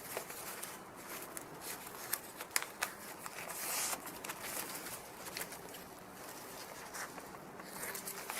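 Scissors quietly snip away excess thread from a woven star, a few faint clicks under soft background hiss.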